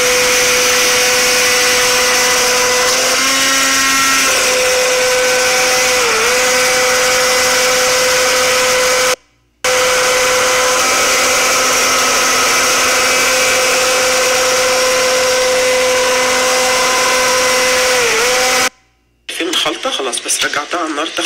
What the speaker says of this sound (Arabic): دلوقتي شيلها من على النار واهرسها بخلاط الشوربة